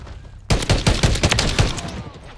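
Video game gunfight with a sudden burst of rapid gunshots that cuts in after a quiet moment, then continues as a loud, stuttering volley for about two seconds.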